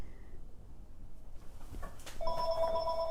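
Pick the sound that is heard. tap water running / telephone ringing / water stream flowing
telephone ringing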